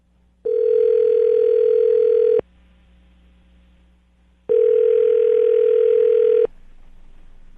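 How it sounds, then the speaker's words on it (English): A telephone dial tone plays as two long steady tones of about two seconds each, separated by a short pause with a low background hum. "I'm going to dial the phone right now, get her on the phone"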